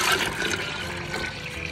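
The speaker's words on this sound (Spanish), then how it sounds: "voy a vertirle el agua." Water being poured into a pressure cooker holding soaked hulled yellow corn, a steady close splashing rush that runs continuously without pause.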